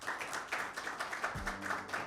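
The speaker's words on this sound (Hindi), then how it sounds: "आपकी भरपूर तालियों में" Scattered claps from a small audience at a Mother's Day poetry gathering welcome a poet to the stage, rhythmic bursts of clapping with a low thump partway through.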